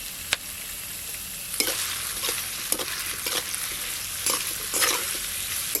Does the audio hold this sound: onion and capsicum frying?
yes